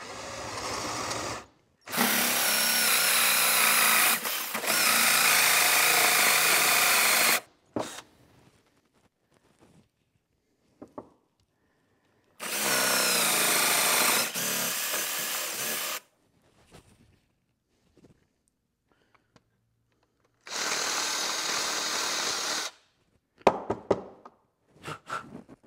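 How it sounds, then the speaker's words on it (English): Power drill boring a 2.5-inch-deep hole straight down into a wooden 4x4, three loud sustained whirring runs of several seconds each, separated by quiet pauses with small knocks and handling noises. "So let's drill that out."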